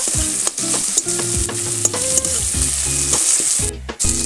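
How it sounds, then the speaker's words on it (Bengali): Onion, ginger and garlic paste sautéing in a pan for a prawn malai curry: a loud, continuous sizzle broken by repeated scraping stirs of a utensil, with no one speaking. "এই যে পেঁয়াজ আদা রসুন ভালো করে কষা হয়ে গেছে"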